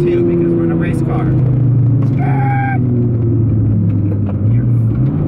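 A Mini Cooper GP is driven hard around a race track, its engine droning loudly and steadily with pitch rising and falling through the gears, while people talk inside the car.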